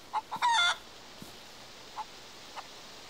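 Chicken in the survival game DayZ giving a quick burst of clucks and a short crow, followed by a few isolated faint clucks at a distance, with no talk.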